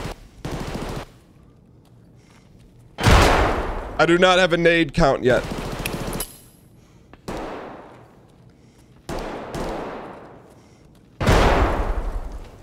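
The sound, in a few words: gunshots and machine gun fire in a video game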